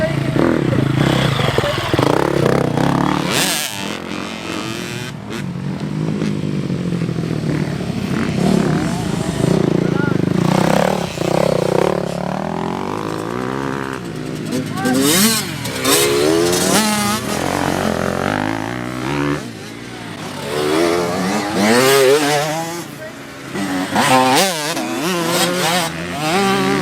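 Motorcycle engine running and revving during a New York riding class, with fluctuating throttle and mechanical clatter throughout while an instructor talks over it.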